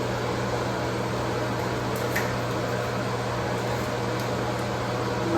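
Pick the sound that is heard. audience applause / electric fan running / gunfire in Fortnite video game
electric fan running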